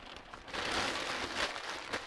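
Light drizzle falls outdoors, a soft, steady hissing patter at low level that swells slightly and fades back with no talk.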